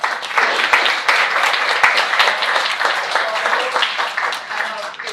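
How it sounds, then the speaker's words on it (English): Seminar audience clapping to welcome visiting guests, a loud, dense burst of many hands applauding steadily for several seconds, with sharp individual claps standing out near the front. "ask you to welcome them by clapping, please"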